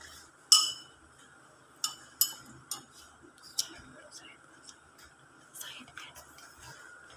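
A spoon stirring a homemade hair oil mixture in a small container, with faint scattered clinks and taps against the sides, close and quiet, with soft background murmuring.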